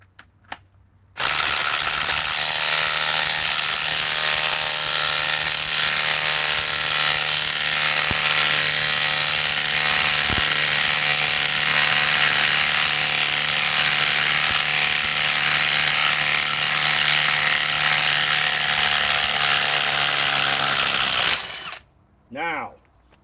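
A Ryobi battery power tool runs loud and steady for about twenty seconds while removing a part, a continuous whirring motor drone with a ratcheting mechanical buzz, cutting off abruptly, then a brief restart near the end.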